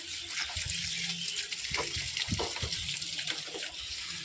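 Water runs steadily while plants in a rooftop garden are watered in hot sun, a continuous hissing splash with a few gurgling bursts, close up and without talk.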